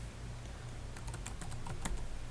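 Brief run of computer keyboard typing as a name is entered in an image editor's text tool, a handful of light, quick key clicks over a low steady hum, no voices.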